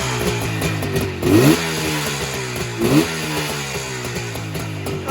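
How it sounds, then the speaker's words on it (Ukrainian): An Izh Jupiter motorcycle engine fires up and idles steadily in cold weather, a close, loud twin-cylinder putter with two brief revs blipping partway through. "Він заводиться прям мгновенно."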